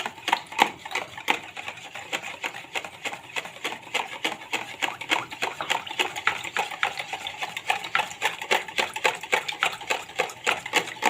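Vanilla is stirred into a sweet mixture for a galash pastry tray, giving rapid, rhythmic scraping and clinking of a utensil against a bowl, repeated steadily and close throughout.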